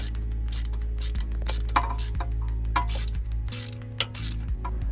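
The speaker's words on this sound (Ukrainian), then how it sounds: "Далі беремо торкс розміром 30 і відкручуємо сам датчик." Torx T30 bit unscrewing the bolt holding a car ABS wheel speed sensor, a busy mechanical clicking and grinding with ratchet-like ticks over a strong low hum, close and continuous for several seconds.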